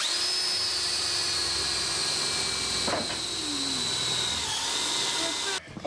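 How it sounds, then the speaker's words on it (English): A power drill bores a hole through a small flat metal piece for a utility trailer, its whine holding steady and close, with a brief bump midway before the drill stops at the end. "Cut it off, drill a hole, and it'll be golden."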